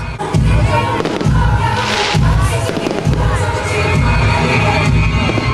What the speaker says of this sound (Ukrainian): неочікуваним сюрпризом для всіх присутніх став феєрверк